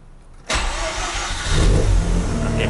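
A 22-year-old Mazda RX8 rotary engine hot-starts after a quiet lull, catching abruptly and settling into a loud, steady idle that swells slightly as it runs, close by with no talking.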